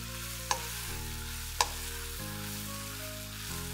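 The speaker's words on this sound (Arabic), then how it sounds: "اخدها تقليبه حلوه قوي مع الخضره والزيتون" Pasta with vegetables, olives, thyme and rosemary sizzles in a frying pan while being stirred, a steady frying hiss broken by a few sharp scraping clinks of the utensil against the pan.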